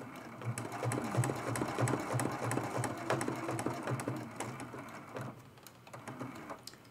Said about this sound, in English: we're actually sewing through four layers of fabric and heat and bond